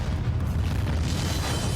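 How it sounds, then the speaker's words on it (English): A building demolition, with explosives detonated in coordinated blasts to collapse the structure, heard from a TV show as a deep, sustained rumbling boom that rolls on steadily without a break. "Explosives were detonated in carefully coordinated explosions that collapsed the building in on itself"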